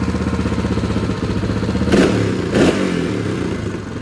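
A Honda XR650R dirt bike fitted with a Hot Cam Stage 2 camshaft runs steadily nearby on a test ride, with two sharp throttle blips rising out of its loping, rumbling engine note.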